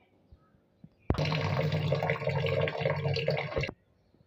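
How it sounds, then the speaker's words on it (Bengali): Red lentils (masoor dal) being washed in water, with a sudden rush of running, splashing water that continues steadily for a few seconds and then stops abruptly. "এই যে ডালটা আমি ভালোভাবে ধুয়ে নিছি"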